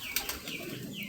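Crested pigeons cooing softly while wings flap in a couple of brief bursts near the start, set against a steady outdoor background with faint chirps.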